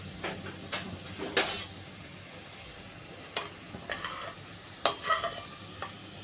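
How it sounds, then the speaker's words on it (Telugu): Chopped onions with a little salt frying in a pan until browned, a background sizzle punctuated by several distinct scraping and clanking stirs of a spatula at irregular intervals, close up and without talking. "1/2 కప్పు ఉల్లిపాయ ముక్కలను వేసుకొని వేయించుకోవాలి"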